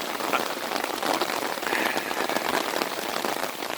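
Steady rain patters on a surface, a dense hiss of drops with no voices, even and continuous throughout.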